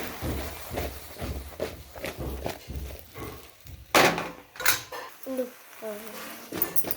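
Okra with salt and turmeric tossed in a frying pan, giving repeated rhythmic clatters and thuds of the pan and vegetables, with louder scraping knocks midway and a voice speaking between them.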